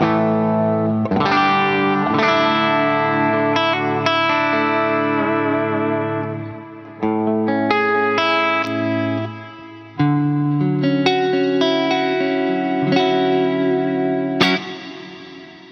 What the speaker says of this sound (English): So this reverb sounds very, very good with stereo mode.